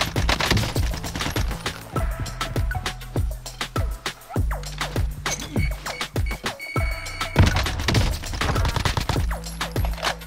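Dense gunfire in a battle royale video game: rapid automatic bursts and repeated single shots keep going without a break, loud and close, with thuds between them. No one speaks.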